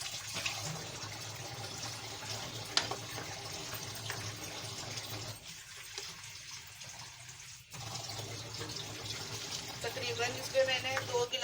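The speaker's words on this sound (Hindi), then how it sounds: "पानी डालूंगी मैं इसमें" Water pours into a pot of sautéed vegetables for soup, a continuous splashing gush with a brief pause midway, then the liquid pouring resumes.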